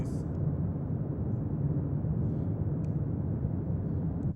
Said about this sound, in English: This sound is aboard an airplane, and is almost 75 decibels